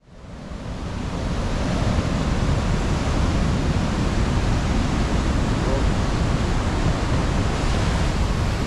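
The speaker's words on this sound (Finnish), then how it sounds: "Saavuttiin Skjoldbossenin vesiputouksille." The Skjoldbossen waterfalls rush as a loud, dense, unbroken roar of water that swells up within the first second and then holds steady throughout.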